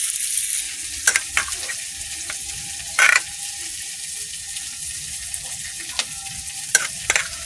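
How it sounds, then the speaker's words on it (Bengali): Grated coconut is squeezed by hand in a kitchen to draw out its milk, giving sparse, wet squelching squishes and a few short splashy bursts against a quiet background. "নারকেলগুলো এইভাবে চটকে নেবো।"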